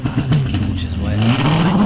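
A hillclimb race car launches off the start line at a British Hillclimb Championship event, its engine note rising sharply over the brief burst while a commentator talks over it.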